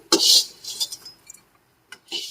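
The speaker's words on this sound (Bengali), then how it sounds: "এখন ভাজা করলাগুলো আমি তুলে নিচ্ছি" Fried bitter gourd pieces are lifted out of a pan, with a few quick metal clinks and scrapes of a utensil against the pan, close by and fairly loud, then a pause and one more brief scrape.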